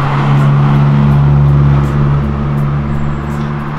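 A drift car's engine revs hard and sweeps past close by, a loud buzzing tone that rises then eases off over a few seconds, with no talk over it.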